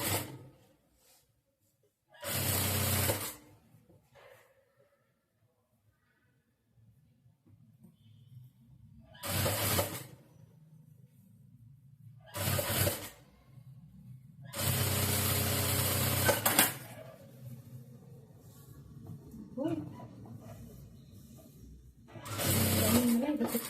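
A sewing machine stitching the lining of a saree blouse runs in short separate bursts, each a few seconds long, with quiet gaps and faint low background sounds between them.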